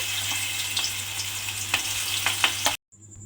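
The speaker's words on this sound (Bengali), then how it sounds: "আবারও কিন্তু ওই তেলের মধ্যে এইভাবে আলুর খোসাগুলো দিয়ে সমস্ত আলুর খোসাগুলো কিন্তু এইভাবে ভেজে নিতে হবে" Potato peels deep-fry in hot oil with a loud, bright, continuous sizzle and a few scraping stirs up close, cutting off abruptly near the end.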